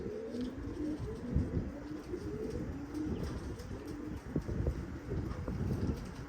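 Pigeons in a loft coo repeatedly, with low rolling calls close by over rustling, breezy background noise. No one speaks.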